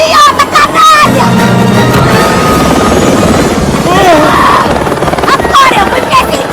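A loud helicopter drones continuously with a steady rotor throb, while voices talk over it throughout.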